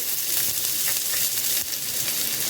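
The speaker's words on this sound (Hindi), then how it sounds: "सॉस बनाने के लिए हमने प्याज को गोल्डन ब्राउन किया" Finely chopped onion frying in about four tablespoons of oil until golden brown: a loud, steady, dense sizzle that runs unbroken throughout.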